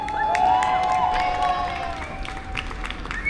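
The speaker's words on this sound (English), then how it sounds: "they're actually applauding the migrants in the hotel and waving" A street demonstration crowd claps and cheers toward migrants in a hotel in Fallowfield, a dense wash of applause with scattered whistles and shouts, moderately loud and ongoing, with voices mixed in.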